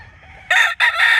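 A rooster crows at close range in a beach village, a short loud burst of two strong harmonic pulses with a brief gap between them.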